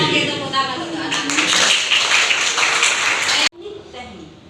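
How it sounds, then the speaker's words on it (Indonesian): Classroom applause for a child, a burst of clapping from a group that swells over a few seconds and then cuts off abruptly, followed by quieter room sound with a voice. "tepuk tangan untuk anak"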